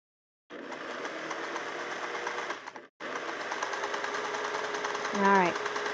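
Vintage sewing machine, about 70 years old, stitching fabric for a quilted pillow cover, a close steady whirring run with a brief stop midway, then a short voice-like rise at the end.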